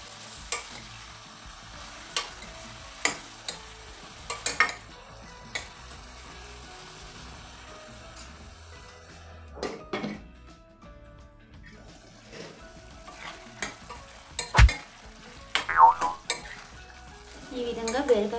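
Ridge gourd curry simmers in a pan, making a faint sizzle broken by scattered scraping stirs from a spoon, with louder clatters toward the end.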